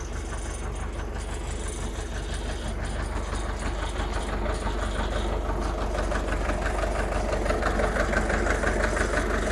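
A YuMZ-6 tractor engine idles steadily close by, a continuous low rumble with a rapid knocking pulse and no voices over it.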